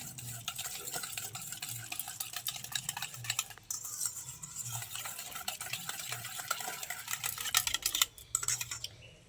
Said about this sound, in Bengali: এবার আমি ভালো করে সব উপকরণ একসাথে মিশিয়ে নেবো, ফ্যাটিয়ে নেবো ভালো করে।